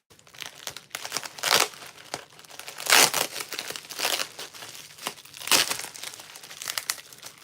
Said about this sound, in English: This is the bubble wrap you are getting.